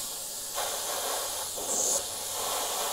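An airbrush hisses softly in short bursts, spraying a blood splatter effect off a stencil, with two or three faint breathy sprays over a quiet background.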